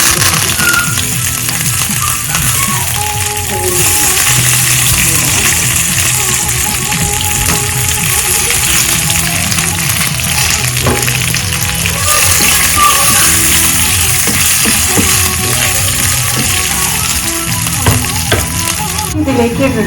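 Chili and curry leaves frying in a pan for a Kerala coconut dish, a steady loud sizzle and crackle that runs the whole time with occasional stirring scrapes.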